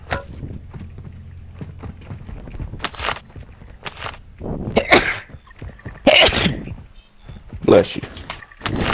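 A single sharp sneeze from a player during a Warzone-style trios match, standing out among scattered game noises such as footsteps and equipment clatter, with voices nearby.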